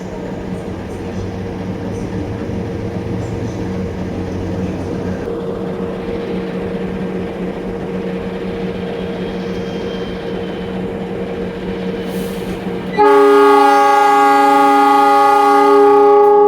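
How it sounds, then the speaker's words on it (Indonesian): The Argo Bromo Anggrek train rumbles and hums steadily at the platform for a long stretch, then a loud, close horn blast cuts in and sustains to the end. "Ya, inilah perjalanan perdana kereta api Anggrek dari Jakarta Gambir ke Surabaya Pasar Turi."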